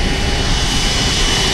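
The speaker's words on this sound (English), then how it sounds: "Plane's taking off." A passenger plane on an airport tarmac in China takes off with a loud, steady engine roar, close and continuous with no talk.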